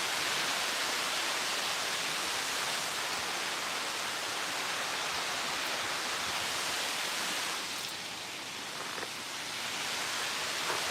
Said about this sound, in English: stare at the waterfalls in the background